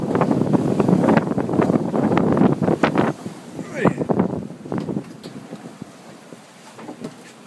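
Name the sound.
strong headwind on a sailboat at sea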